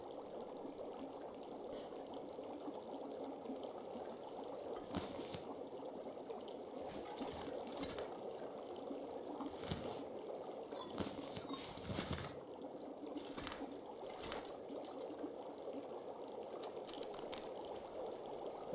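Drinking water in The Long Dark, a steady liquid gurgle and pour continuing for many seconds with scattered soft swallowing clicks, at even moderate level.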